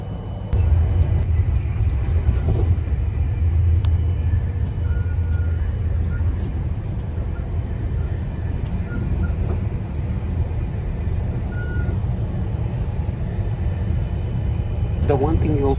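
Steady low rumble inside a moving Swiss train heading toward Geneva, a constant carriage drone with faint rattles and a few light clicks near the end.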